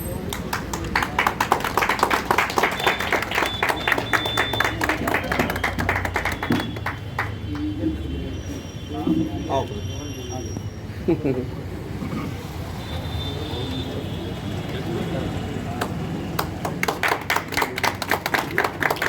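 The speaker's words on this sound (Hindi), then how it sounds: "जोरदार तालियों से" An audience at a railway mail service union convention breaks into loud, sustained applause, dense clapping that thins briefly in the middle while voices talk, then swells again toward the end.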